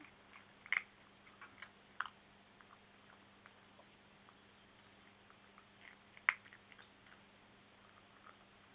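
Small irregular crunches and clicks of an animal chewing hard dry food, close by, over a low steady background hum.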